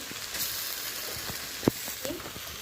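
Pieces of stale bread fry in a pan with a steady crackling sizzle, broken by occasional scrapes and a sharp tap as they are stirred, close up and without talk.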